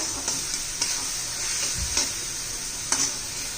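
Homemade masala and chili powder are stirred into a cabbage and pea vegetable dish in a pan, with a steady sizzle, a few light scraping clicks from the spoon and a low thud partway through.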